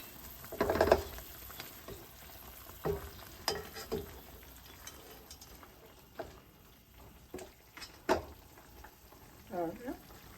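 Duck curry with coconut milk cooking in a pot, a quiet bubbling sizzle broken by several separate scraping and clattering stirs and lid knocks, close, with faint speech at times.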